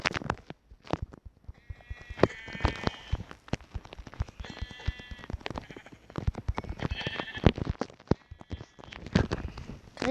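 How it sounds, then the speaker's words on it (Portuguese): Sheep in the video game Minecraft bleat several times in short wavering cries, mixed with rapid clicking footsteps and blocky game sounds, fairly close and without talk. "3 ovelhinhas lindas e maravilhosas."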